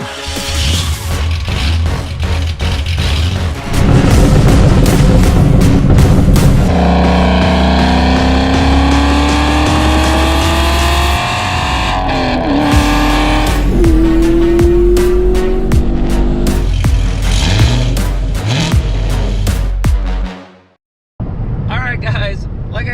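A Camaro SS 1LE driving on the road to a Power Tour event in Bowling Green, with loud, steady engine and road noise, shifting engine pitch and some tire noise, and people talking over it before it cuts out near the end.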